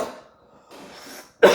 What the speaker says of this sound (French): Excusez-moi, je tousse aussi.